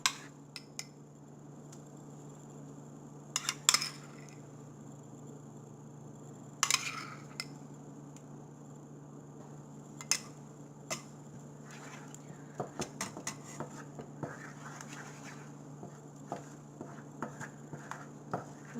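A spoon works plain yogurt around a pan for a spicy broccoli yogurt curry, giving scattered light clinks and scrapes, sparse early and busier later, over a steady low hum.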